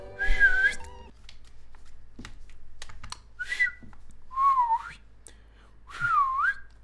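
A player attempts to whistle while playing SpongeBob Battle for Bikini Bottom Rehydrated, producing several thin, wavering whistled notes separated by pauses, with faint clicks and game sounds in the background.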